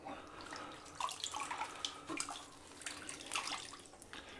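Water trickling and splashing from a tap into a sink while preparing a shave with a firm shaving soap and a Wilkinson Sword TTO safety razor, a steady close running flow with small splashes and no talking.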